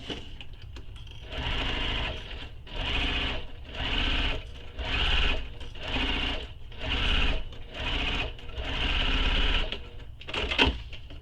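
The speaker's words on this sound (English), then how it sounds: "So first I'm going to sew this in place" A sewing machine stitches a bag handle in place, running in a series of steady, close bursts of rapid needle motion separated by brief pauses, with no talking.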